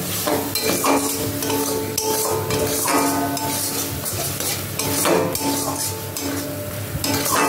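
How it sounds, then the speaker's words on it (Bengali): Food is stirred firmly in a kadai with a masala containing charmagaj so it won't stick, making repeated rhythmic scraping strokes and metallic clinks over a constant sizzle. "এবার ভালো করে নাড়তে হবে, নাহলে কড়াই তলায় লেগে যাবে।"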